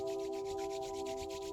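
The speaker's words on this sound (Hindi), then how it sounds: "दोनों हाथों को रब कीजिए।" Two hands rubbed briskly together during a meditation session, a soft rhythmic swishing that repeats in quick even strokes over a steady tonal hum.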